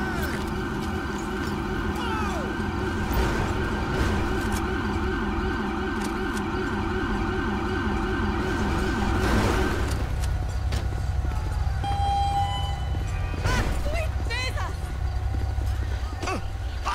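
An ambulance siren in the game GTA 5 with the LSPDFR police mod, wailing in a rapid repeating pattern, loud and close, before cutting to lower engine noise, with radio voices and talk over it.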